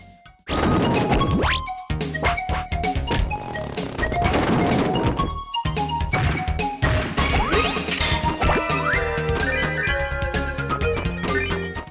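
Busy, bright arranged CD-version first stage theme from SNK's Neo Geo game Top Hunter: Roddy & Cathy, continuous with punchy percussion hits and layered synth melodies, opening after a brief pause and dipping momentarily mid-way.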